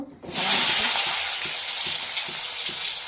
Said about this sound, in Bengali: পটলগুলো এখন ভেজে নেব